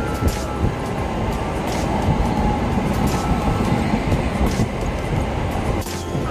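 A Siuri–Sealdah MEMU electric train runs along the track, heard from inside as a loud, continuous rumble and roar with faint rhythmic rattles and no pauses.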